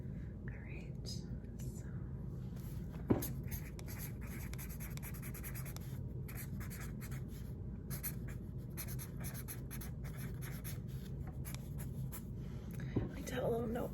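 A marker scratching and squeaking across a notepad in steady, close strokes, with soft whispering alongside and a couple of small taps.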